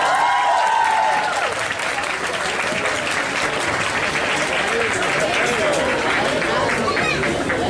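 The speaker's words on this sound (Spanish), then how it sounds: "¡Fuerte aplauso!" A crowd at an anime convention's cosplayer presentation and contest breaks into loud, dense applause, sustained throughout with cheering and crowd chatter mixed in.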